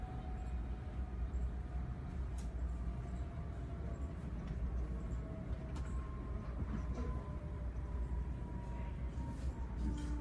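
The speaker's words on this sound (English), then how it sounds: "So this train is braking about as fast as it can." A train braking hard, with a continuous low rumble of the cars and faint high brake squeal lines drifting across, steady and fairly loud the whole time, heard without any talking.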